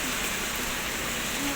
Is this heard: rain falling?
yes